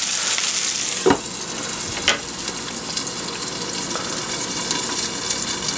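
Salmon fillets pan-fry in hot oil, a loud steady crackling sizzle that runs throughout, with a couple of sharp clinks or pops near the start and no one speaking.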